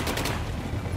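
An RPK machine gun in a video game firing a short rapid burst of a few close, heavy shots with a booming low end.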